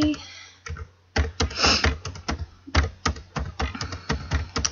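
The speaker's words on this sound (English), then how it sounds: "I'm just typing in a number at a time and clicking enter" Computer keyboard keys tapped in short irregular bursts while numbers are entered into a spreadsheet, crisp close clicks with brief pauses between groups of keystrokes.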